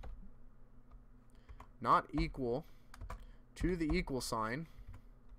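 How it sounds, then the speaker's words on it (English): Typing on a computer keyboard while writing C++ code, with quick light key clicks scattered under and between a man's short spoken phrases. "If I can hit the right keys on my keyboard, that is."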